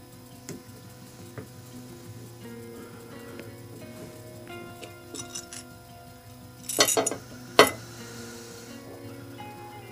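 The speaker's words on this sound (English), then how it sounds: "Let's take this carburetor apart again." Small metal parts clink and tap on a tabletop as an Evinrude 3hp outboard carburetor is taken apart, scattered light knocks and scrapes building to a couple of louder metallic clatters near the end.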